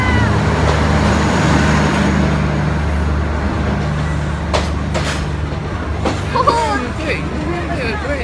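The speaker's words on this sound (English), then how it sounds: "This train is huge. I didn't know they make these trains big." A very large train rolls past, a loud steady rumble with clattering wheel noise throughout, while excited voices talk and cheer over it close by.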